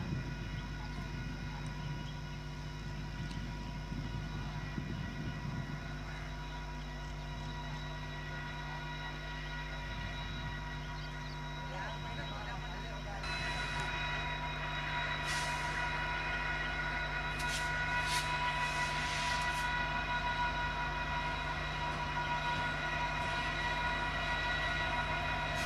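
A pair of Indian Railways diesel locomotives roll slowly past in a continuous low engine rumble with tonal drones, and brief higher squeals or horn-like tones rise in the latter half, steady and fairly distant.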